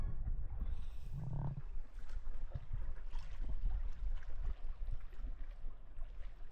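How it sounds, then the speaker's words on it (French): Gentle water lapping and sloshing against a boat hull in a Greek harbor near Kastos, a steady soft wash with occasional splashes and low rumbling, close by. "Juste entendre le clapotis de l'eau."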